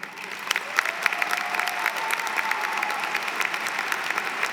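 An audience at a university business school commencement ceremony breaks into steady applause with a few cheers mixed in, a dense clapping texture that holds at an even level throughout.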